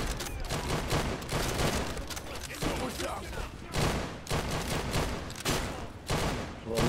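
Sustained gunfire from soldiers during a World War II Battle of France fight at Stonne in the video game Easy Red II, with dense, overlapping rifle and machine-gun bursts repeating loudly and near throughout, some voices faintly beneath.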